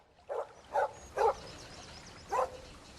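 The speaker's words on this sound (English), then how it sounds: "nose to the ground, barking loudly." A dog barks four times, short sharp woofs spaced about half a second apart, then a longer pause before the last bark.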